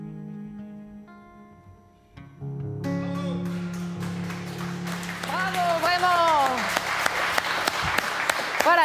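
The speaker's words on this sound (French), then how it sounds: "il y a du monde pour vous applaudir ici à France 2" A France 2 studio audience applauding, rising into sustained clapping after music fades, with cheers and whoops on top growing louder toward the end.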